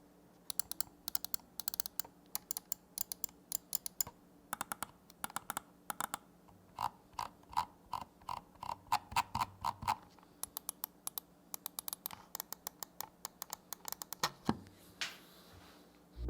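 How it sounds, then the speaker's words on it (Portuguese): Logitech G303 Shroud Edition gaming mouse clicking and scroll wheel ticking close up, rapid bursts of sharp clicks in quick rhythmic runs with short pauses, fairly loud and alone. "você precisa recorrentemente ficar scrollando com velocidade, talvez você ache ele um pouco barulhento"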